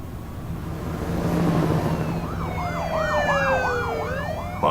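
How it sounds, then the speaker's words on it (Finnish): Police car sirens wail in The Walking Dead game, the rising and falling tone climbing in near a rumbling engine and growing louder toward the end. "Paljon poliisiautoja näköjään."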